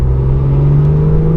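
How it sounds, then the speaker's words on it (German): A 2016 Porsche 911 Carrera (991.2) turbocharged engine drones steadily at a constant loud pitch in third gear at full throttle, a sustained throaty hum close by, with no rise in revs. "Wir sind jetzt im 3. Gang bei 2000 Umdrehungen und treten einfach mal voll durch."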